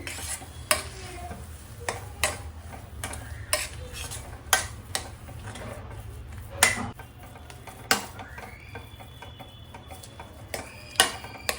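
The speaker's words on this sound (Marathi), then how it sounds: "आता यामध्ये ना मी मँगो पल्प टाकून घेते आणि छान असं मिक्स करून घेणार आहे मी" A spoon stirs mango pulp into cooked semolina sheera in a pan, with repeated sharp scraping taps against the vessel at an uneven, steady pace and no talk.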